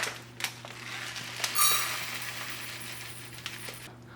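Raw rice for payasam is scooped into a 250 ml measuring cup, giving sharp little clicks and a short grainy rattling patter up close, quiet over a faint steady background hum.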